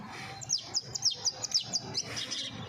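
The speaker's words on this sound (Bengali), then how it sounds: "এই হচ্ছে আমার বর্তমান কবুতরের অবস্থা।" Young pigeons give a quick run of sharp, high chirps, about a dozen short tweets in a steady rhythm, close and fairly quiet with faint room noise beneath.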